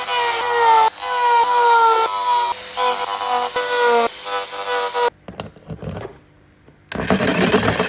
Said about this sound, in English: that means I'm gonna have to get the saw out again